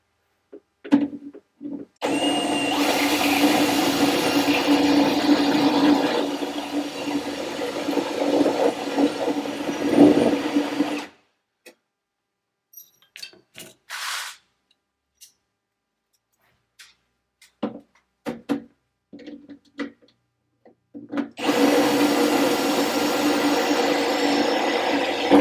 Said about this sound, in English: We'll go ahead and drill it too.